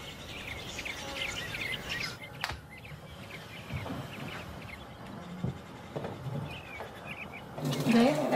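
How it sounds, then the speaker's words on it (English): American robins sing outside Yellowstone in a spring woodland, with scattered chirps and short whistled phrases repeating at a moderate distance over a soft, steady background. "The robins are singing out there, so the bears are awake."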